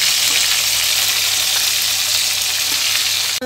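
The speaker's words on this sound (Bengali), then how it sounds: "এবার আলুগুলো ভাজছি। দেখুন পটল ভাজছি।" Pointed gourd and potatoes fry in oil with a loud, constant hiss of sizzling that fills the whole stretch close up, unbroken until a brief cut at the very end, with no voices.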